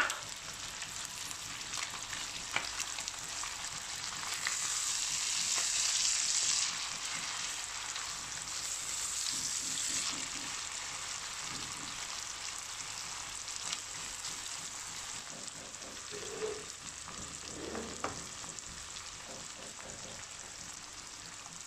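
Small chopped peppers sizzle in hot oil in a pan for a basmati rice pilaf, with a steady, moderately close frying hiss and occasional stirring clinks, no talk.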